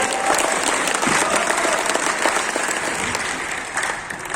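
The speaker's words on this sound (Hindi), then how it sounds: "जोर से ताली बजाएं" Audience applause following a call to clap at a public speech on rural self-reliance, a steady dense wash of many hands clapping throughout, fairly loud, easing slightly toward the end.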